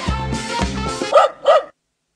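A dog barking in a quick burst: a few low, gruff barks followed by two sharper, higher yips close by, then silence.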